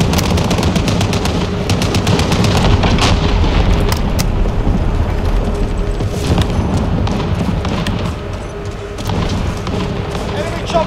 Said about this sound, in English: it doesn't help when there's like a team of like 48 people shooting at you